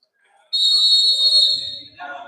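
A referee's whistle blows for a foul during a football match between Atletico Conegliano and Vigoreal: one loud, sustained shrill blast lasting about a second, followed by faint crowd or commentary noise.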